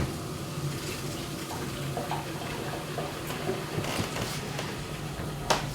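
Hot water running through a Grainfather home brewing system, a constant rushing, splashing flow with occasional clanks and knocks over the top.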